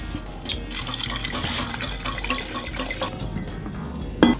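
Methanol being poured into a container to mix with boric acid, a steady trickling liquid pour with light splashing, close and continuous, ending in a small knock.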